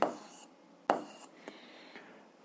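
Hand-writing of algebra equations during a seventh-grade maths lesson: two brief scratchy pen strokes at the start and again near the middle, then faint light taps, close and quiet with no talking.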